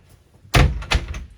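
A motorhome's exterior luggage storage compartment door thuds shut close by, with a second latch knock following a moment later.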